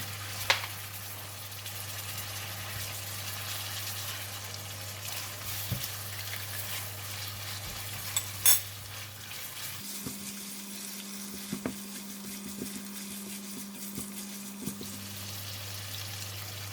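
Kuey teow noodles stir-fried with light soy sauce and oyster sauce give off a steady sizzle, with occasional scraping clicks of stirring and a constant low hum in the background, no voices.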